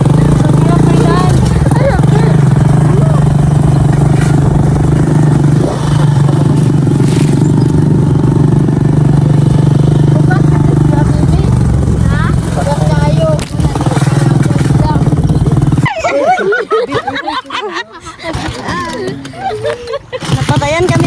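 A motorcycle bumps along a rough farm road, its engine droning steadily with rattles and scrapes before cutting out partway through, while people talk and call out around it.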